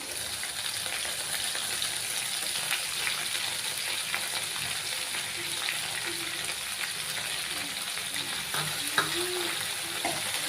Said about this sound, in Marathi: हे मिश्रण चांगलं भाजलं की त्यामध्ये आपण टाकायचे आहे मुगाची डाळ जी आपण भिजत घातलेली होती